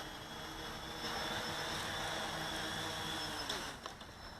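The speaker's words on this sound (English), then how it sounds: "Let's bring it down for a landing." A Bayang Toys X16 Typhoon brushless quadcopter drone coming in to land, its steady high-pitched motor and propeller whine holding close and constant, then dropping off and sputtering as it touches down.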